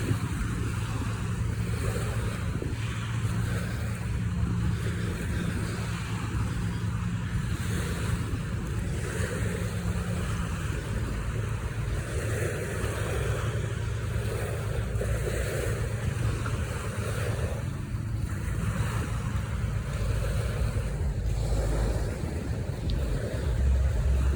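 Low-tide waves wash along the Charleston Harbor seawall in a constant, rolling surf hiss, mixed with gusty wind buffeting the microphone, with no voices over the water.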